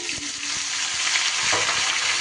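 Cut potatoes going into hot oil in a pan, a steady bright sizzle with soft scraping stirs and faint utensil taps, close and continuous for a couple of seconds.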